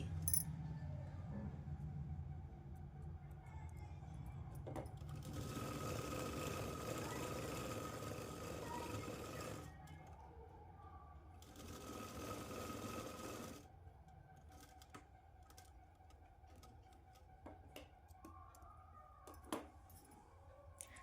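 A sewing machine stitches a Punjabi dress in two motor-driven runs, one longer burst followed by a shorter one after a pause. Quieter handling clicks and knocks fill the gaps between runs.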